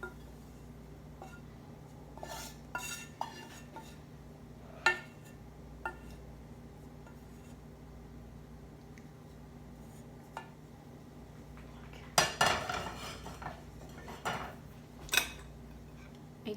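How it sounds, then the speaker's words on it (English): Dishes and cutlery clink sparsely while green bell pepper curry is plated, with scattered light taps and a brief cluster of sharper clatter near the end over a quiet room hum. "let me go ahead and plate it out so you guys can see it"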